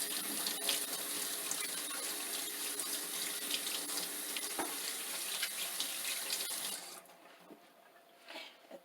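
Tap water runs steadily into a sink during handwashing, a close, even splashing hiss that cuts off near the end.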